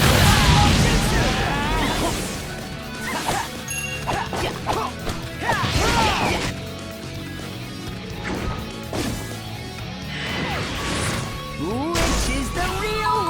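A fire-style jutsu attack in Naruto Shippuden: Ultimate Ninja Storm 4, with loud repeated crashing blasts, whooshes and impacts under shouting game voices and music.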